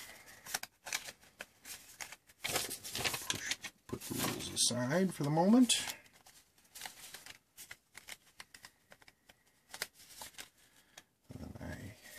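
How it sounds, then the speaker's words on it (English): A deck of playing cards is shuffled in bursts, with riffling bursts of papery flutter and a quick bridging cascade, sounding close and moderately loud between stretches of someone talking. "shuffling the cards a bit"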